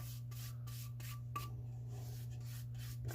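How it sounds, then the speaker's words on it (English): Brush strokes applying spar urethane to ash wood, soft repeated rubbing swishes at close range, quiet over a steady low hum. "So I'm just putting a quick coat of spar urethane on it."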